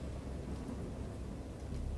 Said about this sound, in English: I heard peals of thunder and other tones which nature utters only in her wildest moods